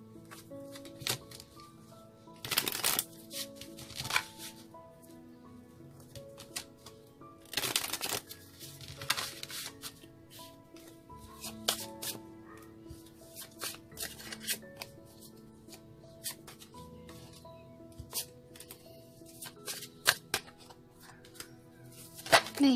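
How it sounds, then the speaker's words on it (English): Tarot cards are shuffled by hand in quiet, intermittent bursts, with sharp riffling flurries among softer rustles and taps, close and alone. "3 more shuffles, they say."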